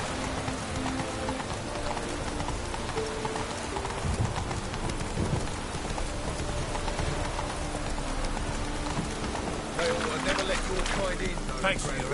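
Geralt's horse Roach gallops in The Witcher game with a steady rhythmic drumming of hooves, mixed with a rainy, wet-sounding backdrop and speech-like murmurs throughout.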